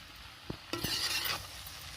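Eggplant curry being stir-fried in a pan: a couple of sharp utensil knocks, then a loud burst of sizzling and scraping that lasts about half a second before fading back to a soft hiss.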